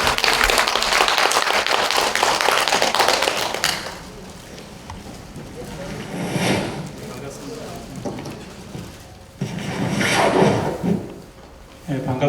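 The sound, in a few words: audience applause at a forum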